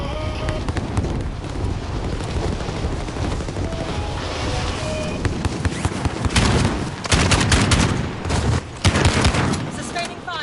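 Sustained automatic gunfire in a first-person shooter, rattling bursts over a rumbling battlefield background that grow louder and denser toward the end, with a voice speaking briefly.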